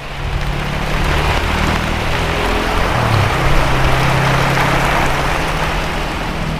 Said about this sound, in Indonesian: Sudah hujan lagi.